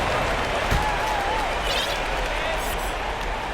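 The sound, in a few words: basketball arena crowd cheering in video game NBA 2K22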